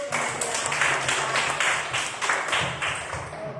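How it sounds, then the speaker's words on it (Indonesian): A class of primary school students claps together in a classroom, a rhythmic patterned clapping that is moderately loud and continuous, with children's voices faintly mixed in. "Kita tepuk tangan dulu."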